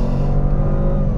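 A 2006 Jaguar XJ Super V8's engine revving hard under full throttle, a deep steady roar with strong low rumble heard from inside the car, brief and loud with no voices.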